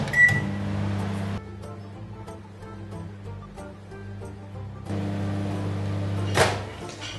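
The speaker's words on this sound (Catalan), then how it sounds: "d'aquesta manera ja ho posem al microones" A microwave oven hums steadily while cooking stuffed zucchini with vegetables, a loud low drone that eases down in the middle and swells again near the end, closing with a short sharp click or beep.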